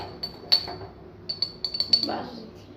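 A spoon clinks against a glass while fennel powder is stirred in for a fennel sherbet, giving several short bright taps of metal on glass, spaced irregularly, with a voice talking faintly underneath.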